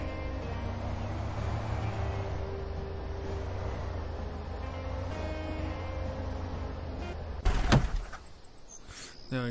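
A car door thumps shut over a steady engine-like drone in the video game Thief Simulator, one solid close near the end.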